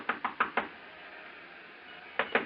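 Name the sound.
knocking on a hotel room door, radio drama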